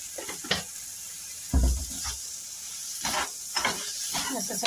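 Chopped capsicum and salt tossed into a hot frying pan for masala pav, giving a steady hiss with several louder sizzling bursts as the pieces hit the oil and are stirred.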